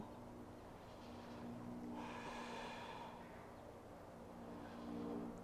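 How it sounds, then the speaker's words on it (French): Slow breathing during a vinyasa yoga session, with a soft, drawn-out exhale swelling in the middle over steady background hiss. "Cinq respirations."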